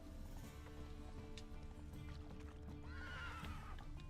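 Roach, the horse in the video game Witcher 3, gallops with quick rhythmic hoofbeats and whinnies amid game sounds, steady and close throughout.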